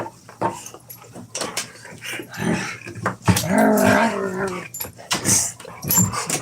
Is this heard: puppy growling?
yes